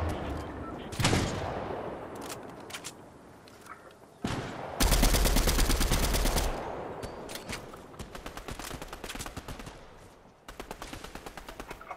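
Fortnite gunfire in rapid automatic bursts, sharp repeated shots with a loud heavy volley midway, then steady rattling fire continuing to the end, with players talking over it.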